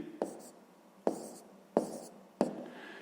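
Numbers are handwritten while solving a fifth-grade decimal subtraction exercise, four short scratchy pen strokes spaced under quiet speech.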